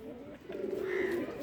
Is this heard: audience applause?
no